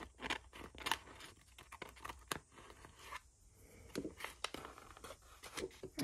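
Scissors trim a paper collage in a quick series of close, crisp snips and rustling paper scrapes, with short pauses between cuts.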